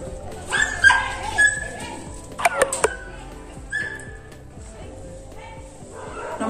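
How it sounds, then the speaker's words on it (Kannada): A dog near a house, where a stray has had puppies, gives sharp barks and whimpers in short bursts, with a whistle-like cry and talk around it. "ಮನೆ ಹತ್ರ ಒಂದು ನಾಯಿ ಮರಿ ಹಾಕ್ಬಿಟ್ಟಿದೆ."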